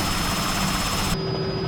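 Robinson R66 helicopter in Microsoft Flight Simulator, a steady loud rotor and turbine drone near a desert airport, continuous throughout with a sudden drop in the high hiss partway through.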